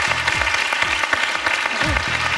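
A French television game show studio audience applauds a contestant, brisk dense clapping under a bright musical sting with rising and falling tones, loud and close for a couple of seconds.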